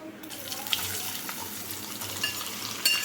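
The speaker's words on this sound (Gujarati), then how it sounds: "જીરેને તતડવા દઈશું હિંગ એડ કરી દઈશું હવે કંકોડા એડ કરી દઈશું" Spiny gourd tipped into hot oil with sputtering cumin seeds and asafoetida, a broad bright hiss that swells as the pieces land, with small crackles and a sharp rise near the end.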